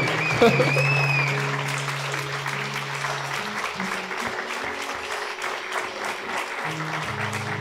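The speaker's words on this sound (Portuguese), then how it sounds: "Pastor Ademar, por favor, receba as palmas dessa igreja." Church congregation applauding to welcome a pastor, sustained clapping under a held organ or keyboard tone with sliding notes, moderately loud and continuous throughout.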